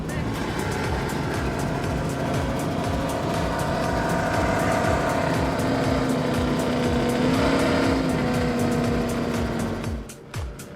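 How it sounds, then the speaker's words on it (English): Loud, sustained roar of a 36-foot racing powerboat's engines at full throttle, droning continuously up close, with pitch rising slightly before easing off near the end. "let's get a little closer and listen in as Max hits the throttles and see how she sounds."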